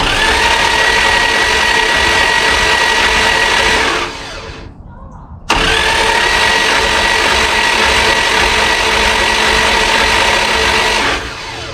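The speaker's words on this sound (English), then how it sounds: "see how fast that performance starter spins" A performance starter motor for a 318 Magnum V8 spins loudly on a bench test with a steady high-pitched whine, drops out for about a second, then spins up again and runs steadily to the end.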